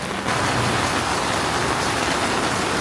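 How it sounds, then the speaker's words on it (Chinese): Rain falls steadily on a street in Da Nang, Vietnam, making a dense, even hiss that starts after a brief quieter moment and holds constant with no voices. "都是在下雨"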